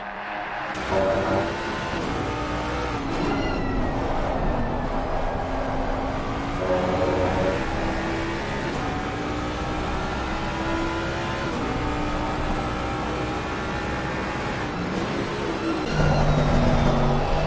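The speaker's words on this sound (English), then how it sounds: "listen to that engine note for a couple of corners" A high-pitched race car engine in a racing video game at the Nürburgring Nordschleife revs up and down through gear changes, rising and falling pitch sweeps continuing steadily with no talking.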